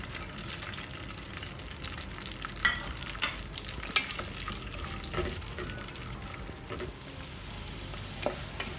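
Nuts frying in hot fat with cardamom and cloves, first almonds then pistachios, while being stirred; a steady low sizzle runs throughout, with occasional scraping clinks from the spoon against the pan.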